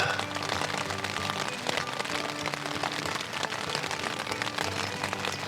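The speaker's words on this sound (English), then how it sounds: "Well, it's still raining." Rain falls steadily outside at a wild camp on the Isle of Wight, a continuous dense patter of drops on surfaces with no pauses, moderately loud throughout.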